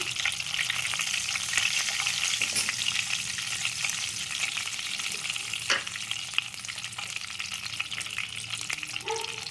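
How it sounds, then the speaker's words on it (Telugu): Curry leaves and turmeric sizzle in hot oil for a cashew pulihora, a dense, continuous crackling hiss that stays close and fairly loud throughout, with no voices. "ఇందులో కరివేపాకు వేసుకోవాలి కొంచెం పసుపు వేసుకోవాలండి దీంట్లో"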